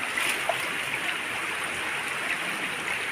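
Spring water flows over rocks at the foot of a stone by a river, a steady, soft rushing murmur that stays even throughout with no talking.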